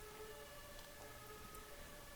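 An ambulance siren wails faintly at a distance, a thin sustained tone held steady over a dull background murmur.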